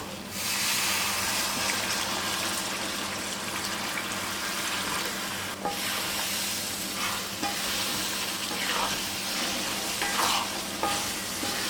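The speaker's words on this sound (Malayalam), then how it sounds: "ഇതിലേക്ക് ഇനി നമുക്ക് വിനീഗർ ആഡ് ചെയ്യാം." Vinegar hits a frying garlic pickle mixture and sets off a loud, continuous sizzle that stays strong throughout. A few soft stirring clinks break through, and no one speaks.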